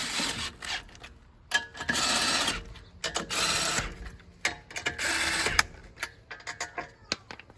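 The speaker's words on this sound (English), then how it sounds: "Even if you're doing it with an air ratchet" A ratchet tightens a brake caliper bolt on a 2015 Toyota Prius in several short, busy bursts of rapid clicking and whirring, separated by brief pauses and scattered metallic taps, with no talking.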